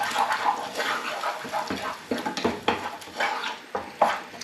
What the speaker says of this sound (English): put in all your herbs and spices in there, whack them in, give them a good stir in